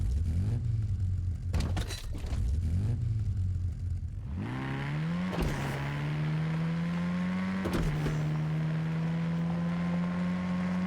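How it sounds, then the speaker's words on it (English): A car engine in the Fortnite video game idles with a low steady hum, then revs up sharply twice and holds higher droning tones. The sound is clear and fairly quiet, and brief clicks break in with no speech. "I guess we'll just listen to the sound. Jeez. Alright. So here is how it sounds. I'm just gonna go ahead and exit the car so you guys can hear it again."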